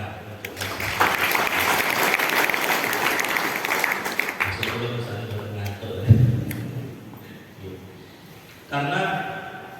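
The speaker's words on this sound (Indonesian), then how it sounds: "Tepuk tangan untuk" An audience at an Islamic alms-collector training session claps steadily for a few seconds, a dense and fairly loud patter that fades out and gives way to someone speaking over a PA.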